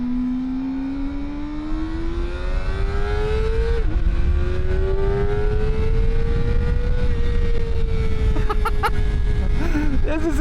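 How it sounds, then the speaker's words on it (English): A Kawasaki ZX-4RR motorcycle's engine screams at high revs while riding, pitch climbing steadily through the gears with brief shift dips, loud and continuous, with wind rush and a rider's voice under it. "because the engine is screaming as well"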